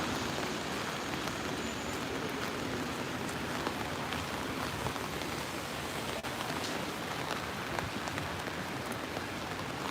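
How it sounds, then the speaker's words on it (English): Steady rain falls across an outdoor scene in St. Petersburg, Russia, a dense even hiss of drops on surfaces that stays constant throughout with no voices. "Rainy St. Petersburg."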